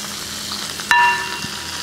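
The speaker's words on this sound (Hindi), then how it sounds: "अब इसको तड़का को हम दाल के ऊपर डाल देंगे।" A sudden loud sizzle bursts out as hot tempering oil is poured onto toor dal, then settles into a softer frying hiss that fades over a second.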